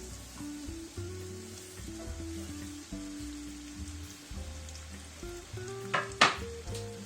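Chopped onions go into melted butter and begin to fry, giving a steady close sizzle beneath a sustained low tonal hum, with a short burst of sharper crackle and a clatter near the end.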